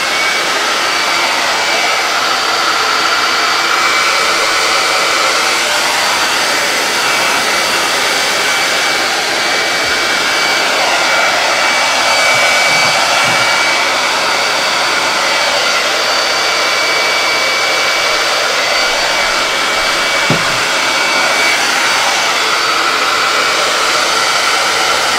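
A hair dryer blows steadily and loudly at close range for the whole stretch, drying chalk paint on a botanical flower wall decor piece, a constant whooshing roar with no talk.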